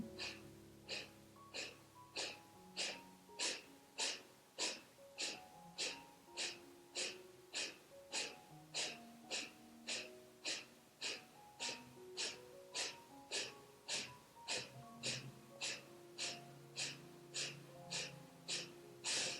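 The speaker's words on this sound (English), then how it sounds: "Now breathing deeply into your abdomen and beginning the Kapalbhati pumping" Kapalbhati yoga breathing: a steady train of about thirty forceful, sharp nasal exhalations pumped from the abdomen in an even rhythm, close and clear with no talking.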